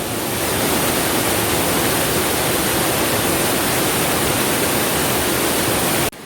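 A waterfall pouring inside a dark cave, a loud steady broadband rush filling the whole stretch without variation, cutting off abruptly at the end.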